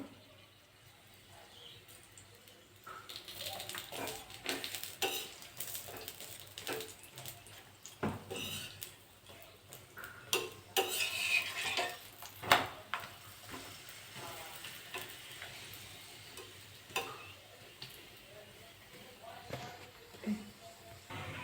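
A flour paratha fries in white oil in a pan with a crackling sizzle that swells and fades, broken by spatula scrapes and pan clatter, while a voice talks intermittently over it.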